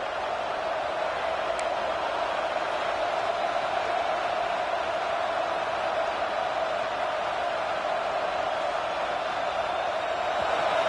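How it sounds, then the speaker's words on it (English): A dense, roaring American football stadium crowd fills the air continuously, a steady wash of distant cheering and noise with no pauses. "This crowd bringing the energy and noise early."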